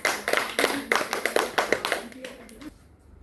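Children clapping during a school catechesis lesson; a short run of distinct, rhythmic claps close by, fading out, with a voice speaking over them.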